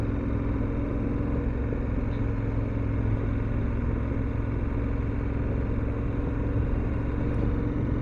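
A 2021 BMW F750GS TE motorcycle cruising on a dry road on a warm afternoon produces a continuous low engine rumble mixed with wind rush, steady and even throughout.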